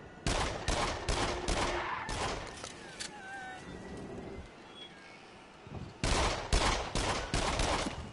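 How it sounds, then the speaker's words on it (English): Gunfire erupts in a video game hunting lodge: rapid bursts of loud shots in a quick volley, a quieter lull, then another string of shots. "You're not supposed to shoot the animals."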